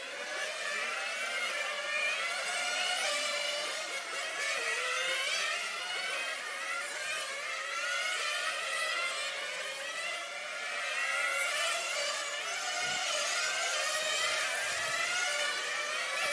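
Small high-revving nitro engines of 1/8 scale RC racing cars whine continuously at a distance, rising and falling as several cars circle a track during practice, with no voices.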